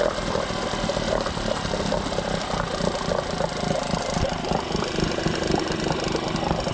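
An old 1985 or 1987 boat motor runs steadily at a low, rumbling idle, close and continuous for the whole stretch with no talk.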